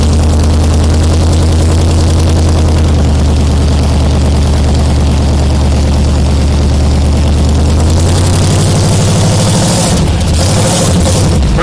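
A 1931 Ford engine idles steadily and loudly at close range on a cold morning, a low rumbling drone throughout, with the tone shifting briefly near the end.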